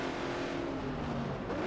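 Race car engines at Silverstone in a Forza racing game drone steadily at a fairly constant pitch, a dense continuous roar heard briefly at moderate level with no talk over it.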